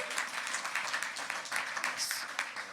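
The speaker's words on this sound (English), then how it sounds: "Let's give a round of applause to Gwen Carr as well." A crowd applauds Gwen Carr at a National Action Network gathering, brisk uneven clapping from a moderate group with a few distinct sharp claps poking through, fairly close and brief.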